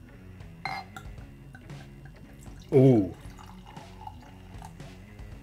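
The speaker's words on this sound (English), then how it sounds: "There we go. Jesus, let's get pouring." Kopparberg cider poured into a glass, a short gurgling pour rising in the middle of the clip beside faint clinks and drips, with a brief exclamation from a person nearby.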